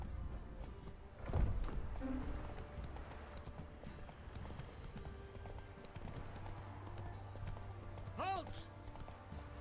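Roach, a horse in a video game, clip-clops along at a run, hooves sounding under a voice and game ambience, with a brief whinny-like call near the end.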